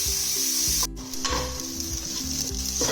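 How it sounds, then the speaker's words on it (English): Onions sizzle steadily as they fry in a pan for a dal, with occasional scraping from stirring and a brief sharp knock; no one talks. "I've roasted the pyaz for almost 5-7 minutes, constantly stirring it"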